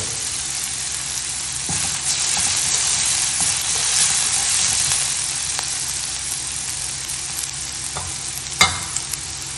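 Ginger and curry leaves being sautéed in a pan, giving a steady close sizzle and hiss with a few scraping stirs and one sharper clink near the end.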